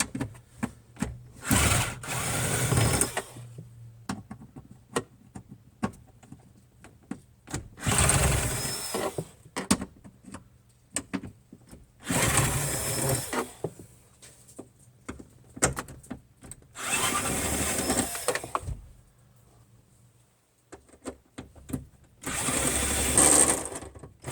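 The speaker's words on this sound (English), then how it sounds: "now we're going to get in here and remove the other screws" A driver works screws loose from a fresh-air vent unit on an off-road vehicle, giving about five separate bursts of quick ratcheting clicks with quiet pauses between them.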